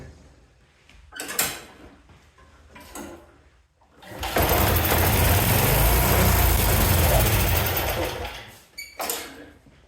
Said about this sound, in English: I'm able to get it started, it just won't keep running. I'm starting it with starter fluid.